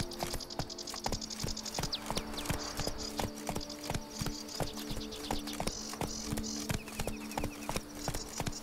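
Horse hooves clip-clopping at a steady trot during a ride in The Witcher 3, crisp and rhythmic in the foreground with faint ambient game sounds and chirps behind.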